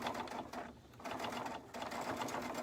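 A sewing machine runs steadily while stitching along a seam of a soft fabric cuddle cube, with a brief pause mid-run before the motor's even whir resumes, close and continuous with no talk.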